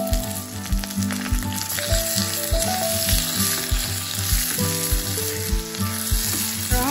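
Panch phoron, dried red chillies, a bay leaf and onions crackle and sizzle in hot oil over a low gas flame, a busy continuous frying hiss with occasional stirring scrapes and music playing underneath.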